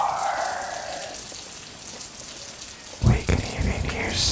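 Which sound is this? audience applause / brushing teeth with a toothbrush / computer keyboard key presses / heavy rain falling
heavy rain falling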